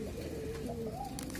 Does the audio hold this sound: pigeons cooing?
yes